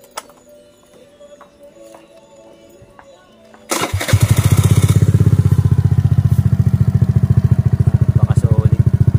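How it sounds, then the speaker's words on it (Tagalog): A Suzuki Burgman 125 scooter fitted with an Akrapovic M1 muffler starts after a few seconds of quiet, then settles into a loud, close, deep, rapidly pulsing exhaust idle that keeps running steadily. "M1 Akrapovic para sa Suzuki Bergman. Grabe. Dumadagundong."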